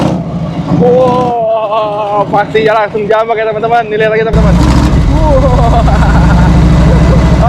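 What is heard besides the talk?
1982 Harley-Davidson Tour Glide 1340 cc motorcycle engine revving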